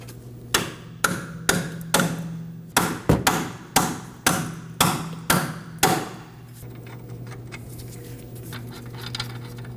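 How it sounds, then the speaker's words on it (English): Ten sharp metallic hammer taps on the end of a bolt in a steady rhythm, close by, during front strut removal on a Ford Edge, over a low mechanical hum, then the strikes stop and only the hum continues. "we can tap that with a hammer"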